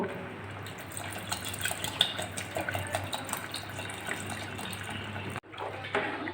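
Water is poured into tamarind dal, making a continuous splashing and trickling sound that cuts off briefly near the end and then resumes.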